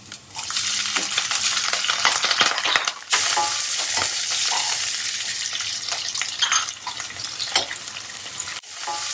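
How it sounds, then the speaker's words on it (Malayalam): Chopped ginger fries in hot oil in a pan for Indian pineapple pickle, giving a loud, continuous broadband sizzle broken by occasional stirring scrapes and clinks. "അതിലേക്ക് ആദ്യം ഇഞ്ചി ഇട്ട് കൊടുക്കണം. ഇഞ്ചി ഒന്ന് മരിഞ്ഞു വരുമ്പോൾ പച്ചമുളക് വെളുത്തുള്ളി ഇട്ട് കൊടുക്കണം."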